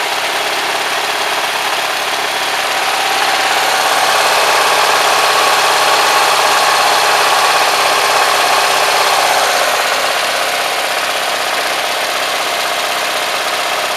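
A small gasoline engine idles steadily, close and loud, with a constant buzzing drone and a slight knocking texture that hardly changes across the whole stretch.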